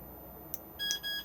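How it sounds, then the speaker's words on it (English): A Swift Conqueror 480 caravan alarm sounds two short electronic beeps in quick succession on disarming, close and clear, preceded by a faint click, with no talking. "disarmed with 2 beeps"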